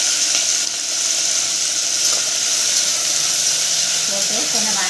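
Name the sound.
tomatoes and green chillies frying in a pan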